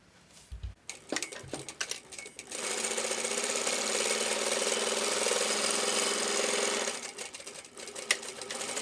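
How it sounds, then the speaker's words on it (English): A sewing machine runs a row of stitches in one continuous, loud mechanical whir. Scattered clicks and handling knocks come just before and after the stitching. "We made a row of stitches."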